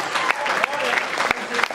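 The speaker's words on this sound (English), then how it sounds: "Round of applause to the start of the Froch Groves UK Tour" Applause from a crowd at the opening of the Froch Groves UK Tour boxing event, loud clapping with occasional cheers and voices mixed in.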